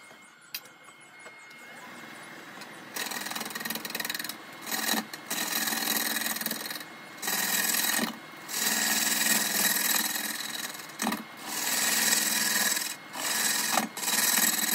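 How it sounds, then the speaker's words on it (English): A small spindle gouge cuts a cedar burl spinning on a woodturning lathe, producing a steady, close, raspy scraping hiss that breaks off in short gaps as the piece is started and stopped. "I really like to use just a small spindle gouge"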